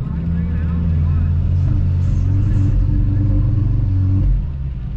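An Audi S3 8Y holds launch control at around 3,000 RPM, its engine producing a loud, steady, buzzy drone with strong low harmonics that eases off near the end.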